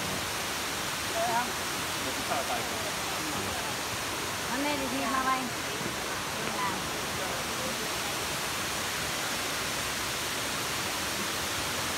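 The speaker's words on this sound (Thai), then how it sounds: "น้ำตกน้ำตก" A waterfall roars as a steady, dense wash of noise throughout, with faint voices and birdlike chirps barely surfacing over it.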